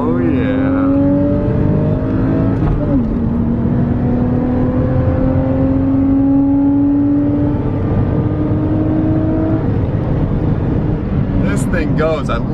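A Porsche 2.5-liter early flat-six engine accelerates through the gears, its rising whine dropping at a shift near three seconds and climbing again before easing off, heard from inside the car with brief talk near the end.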